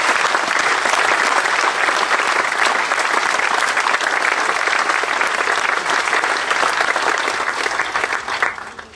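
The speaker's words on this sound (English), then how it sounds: "For all these and many other triumphs, our students deserve our applause." Big school hall audience applauding students at a Commemoration Day prizegiving, loud, full and sustained clapping that tapers off in the final second.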